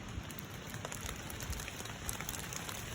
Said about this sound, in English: So it's hailing now.